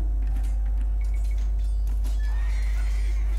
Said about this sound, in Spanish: Se han cargado a mi caballo.